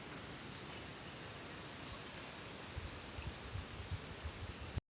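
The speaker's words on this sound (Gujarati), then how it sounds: "જો વરસાદ ચાલુ થઈ ગયો છે" Steady rain falling outdoors, a constant soft hiss with scattered low patters, moderately quiet and continuous with no talk over it.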